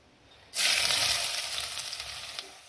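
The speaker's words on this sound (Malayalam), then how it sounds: "ഇനി നമുക്കതിലേക്ക് 2 സവാള ചെറുതായി അരിഞ്ഞു വെച്ചിട്ടുണ്ട്, അതങ്ങോട്ട് ഇട്ട് കൊടുക്കുക." Chopped onions hit hot oil for a Kerala-style squid curry, bursting into a loud, steady sizzle that starts abruptly and holds with crackling, slowly easing slightly.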